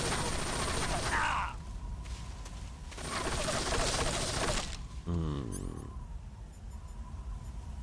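Shotgun fire during a boss battle in the video game Metal Gear Solid 3: Snake Eater: loud, close, noisy blasts come in sustained bursts separated by brief lulls, with swishing game effects and a rumbling background between them.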